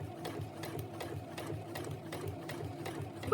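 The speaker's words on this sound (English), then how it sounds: "And then you're just going to sew around." A sewing machine stitches around the edge of a fabric bookmark pen holder, a steady close whirring with a quick rhythmic pulse that runs unbroken for the whole stretch, with no talking.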